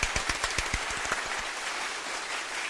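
Applause from a small podcast studio audience: a handful of distinct claps at first, settling into a soft, steady patter that fades out partway through.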